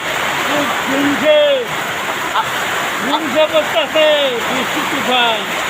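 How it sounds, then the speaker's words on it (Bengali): Heavy rain pouring over Dhaka city during a storm: a dense, loud, continuous wash of falling water with warbling voice-like calls rising and falling above it. "দেখতে পাচ্ছেন কিভাবে বৃষ্টি নামছে আমাদের ঢাকা শহর।"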